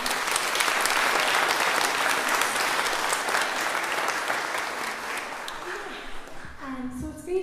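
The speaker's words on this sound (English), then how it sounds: "So they definitely deserve a big round of applause" Concert audience applause for young musicians at a music festival tutor concert, a full, steady round of clapping that gradually fades, followed by a voice starting to speak near the end.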